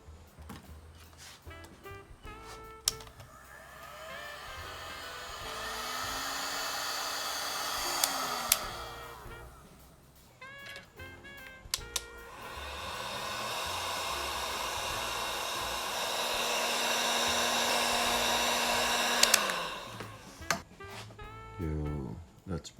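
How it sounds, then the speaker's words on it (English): A heat gun blows hot air over wire terminals in two sustained, steady whooshing runs, each rising and falling as it switches on and off, with brief quiet handling noises between them. "Using our heat gun."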